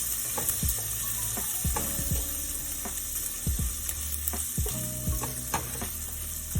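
Spices sizzling and frying in a pan for vegetarian biryani, a steady hiss with repeated sharp scrapes and clinks of stirring throughout, close and alone.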